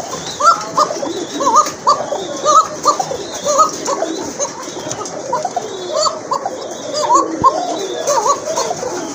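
Fancy pigeons coo repeatedly at close range, a steady stream of soft rolling calls overlapping from several birds, with faint background noise throughout.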